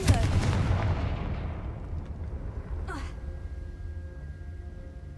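Confringo blasting spell explosion in the game Hogwarts Legacy: a loud broadband blast at the start that decays over a second, followed by a brief sharp crackle and a lingering rumble, with no talk.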